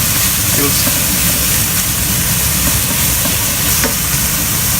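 Rice frying and browning in a pan for vegetable fried rice, a steady, loud broadband sizzle with faint crackles and scraping throughout, no talk.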